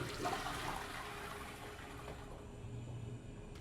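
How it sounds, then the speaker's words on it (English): A toilet flushes in the video game Prey, a steady rushing swirl of water that stays loud and even throughout, then thins slightly as it drains, with no voices. "Toilet looking a bit grubby? Then give it a flush and watch that water swirl away"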